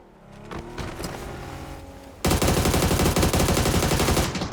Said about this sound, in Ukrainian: Тачка їде під нами прям.